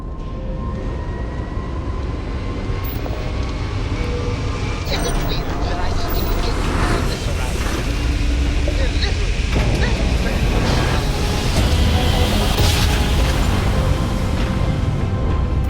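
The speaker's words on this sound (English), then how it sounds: "Grav jump successful" A spaceship grav jump in the video game Starfield, heard as a loud, sustained rushing roar with rising whooshing swells and bright flares that fill the whole span, with game voice lines over it.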